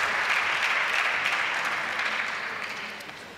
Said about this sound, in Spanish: Le damos un fuerte aplauso al Instituto Linares